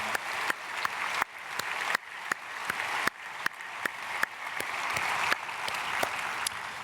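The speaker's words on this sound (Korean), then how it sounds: "우리 축복의 박수 보내겠습니다" Church congregation at an early-morning prayer service applauding young people after their testimonies, a moderate, even patter of many hands clapping with a few sharp, louder claps standing out.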